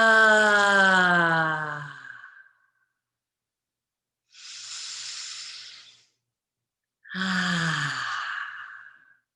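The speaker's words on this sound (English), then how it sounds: "Getting used to inhaling and exhaling sound." Slow, deep breathing in a guided energy-moving exercise: a voiced, sighing exhale trailing off, a soft airy inhale after a pause, then another sighing breath, close and alone with no talk.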